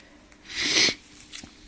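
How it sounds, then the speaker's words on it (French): A single sharp nasal sniff or snort, loud and close, lasting under half a second, followed by faint breathing. "Excusez-moi pour le reniflement"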